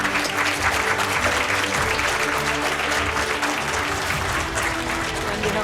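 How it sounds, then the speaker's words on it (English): An audience at a prize distribution ceremony for an India-Japan intercollegiate competition applauds the winners, a thick, continuous wash of clapping from many hands that holds steady for the whole stretch. "A big round of applause to all of them."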